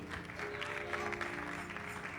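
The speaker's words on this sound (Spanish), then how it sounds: "Denle un aplauso más fuerte a Jesús." A church congregation applauds in a steady, fairly soft patter, with sustained musical tones running beneath the clapping.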